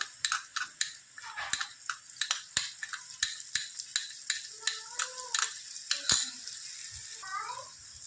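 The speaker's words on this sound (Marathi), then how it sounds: "आता जो आपण इथे घोल बनवून ठेवला होता मसाल्यांचा तो यामध्ये ओतून घ्यायचा आहे" A spice paste hits softened onions frying in a pan for bhindi masala, with a low sizzle under repeated sharp scrapes and taps of a spoon stirring against the pan.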